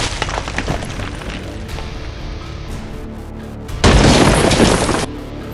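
A gunshot effect in an animated series about budgies lands as one loud, booming blast after a quieter stretch, then holds as a brief noisy burst.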